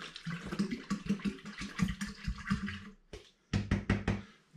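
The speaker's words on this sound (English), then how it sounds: "I'm going to put another 2 litres of spring water into this" Spring water is poured from a bottle into a home brewing fermenter for a citrus lager, close by. It gurgles and glugs in rapid uneven pulses, breaks off for a moment, then resumes briefly, with no talking.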